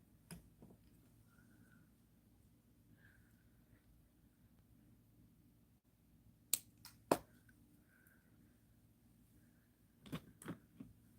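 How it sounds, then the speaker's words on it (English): Pliers snip off extra wire in a quiet garden setting, a few sharp, isolated clicks near the middle and end against faint background hum. "Now I'm going to cut this extra wire off."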